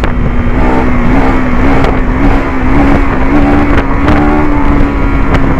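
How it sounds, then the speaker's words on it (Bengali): A 2025 KTM Adventure 390 motorcycle engine held at full throttle, a steady loud drone with a constant pitch and continuous wind rush, heard close and alone without talk. "full throttle engage, without knocking, just without knocking bike কিন্তু নিয়ে নিল"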